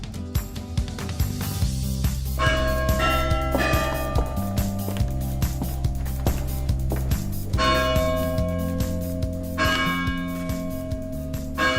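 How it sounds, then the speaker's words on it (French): Carillon bells ring out beneath the small bell turret and four-faced clock of the Moulin à Café dome at the Saint-Omer theatre, a loud melodic run of overlapping struck tones sounding close, with no speech. "on est bien sous le carillon, sous le clocheton, l'horloge 4 faces"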